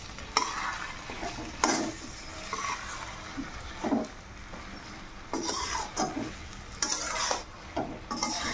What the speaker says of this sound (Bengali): এখন সবজিগুলো দিয়ে অল্প কষিয়ে নেব